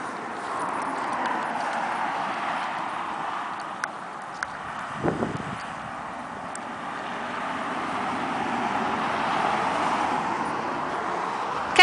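Horse hooves clip-clopping on a trail under a rider, a soft steady rhythmic thudding with faint background rumble.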